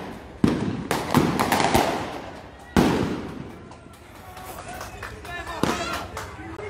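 Several sharp firecracker blasts crack out at irregular intervals, loud and echoing, with crowd noise and voices between them, during street clashes at a blockade point in Santa Cruz, Bolivia.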